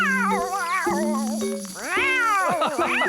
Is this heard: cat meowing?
yes